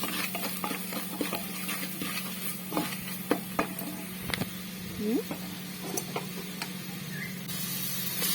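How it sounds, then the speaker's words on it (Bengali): Spices, salt, turmeric, chilli and coriander powder stir-fried in a pan for a chana dal and egg dish, a low steady sizzle broken by irregular spatula scrapes and taps, close up, with a faint background hum. "আবারও সবগুলো মশলা ভালোভাবে কষে নেব"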